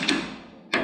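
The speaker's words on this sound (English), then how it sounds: "we will give this a little tap" Two sharp taps as parts of a Belsaw M-14 sawmill carriage are knocked together during a rebuild, close and fairly loud, spaced well apart, each with a short ringing decay and no talking.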